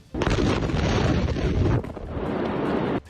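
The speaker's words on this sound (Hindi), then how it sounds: "एक वीडियो में उस गोदाम में धमाका होता नजर आया" A warehouse explodes in news footage: a sudden, loud, broadband roar bursts in and rumbles heavily for over a second, then a slightly quieter rolling blast continues before cutting off abruptly, with no voices.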